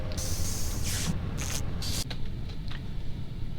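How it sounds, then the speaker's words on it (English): Fuel being poured into the lower engine during a refuelling task in the game Among Us, heard as bursts of spray-like hissing over a steady low hum, several short pours close and fairly loud. "you pour the fuel in here"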